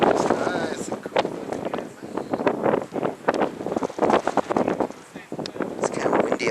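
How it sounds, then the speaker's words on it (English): Gusty mountaintop wind at the top of the Sandia Tramway above Albuquerque, New Mexico, buffets the microphone in uneven, rustling bursts that rise and fall throughout. "It's kind of windy up here."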